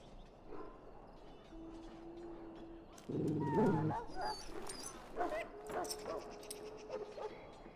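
A dog in Dragon Age, a video game, gives a few short barks and whimpering yips that break in partway through, mixed with background game ambience and a brief tone.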